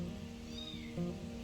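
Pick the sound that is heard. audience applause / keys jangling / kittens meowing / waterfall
kittens meowing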